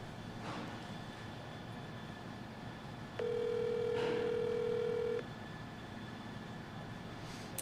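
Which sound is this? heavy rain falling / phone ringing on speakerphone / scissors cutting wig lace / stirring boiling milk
phone ringing on speakerphone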